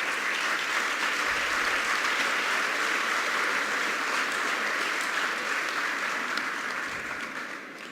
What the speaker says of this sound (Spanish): yo pediría que todos se den un aplauso